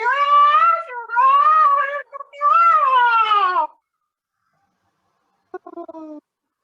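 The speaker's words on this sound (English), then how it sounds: "Kitties, little kitties." A cat gives several long, loud meows one after another, then a short quieter meow after a pause.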